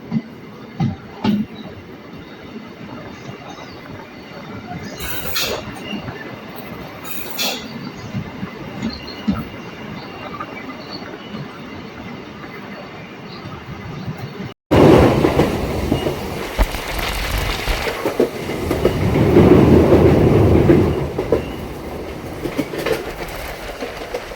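Katwa–Ahmadpur MEMU train running along its rails beside the Azimganj–Katwa main line, a constant close rumble with rhythmic clickety-clack and occasional wheel squeal, growing louder and harsher partway through.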